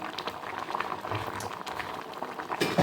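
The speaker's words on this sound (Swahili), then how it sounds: "Inaendelea kuchemka" Chukuchuku fish stew made with tasi fish bubbles in a pot on the stove. A close, steady simmer of small popping bubbles continues softly throughout.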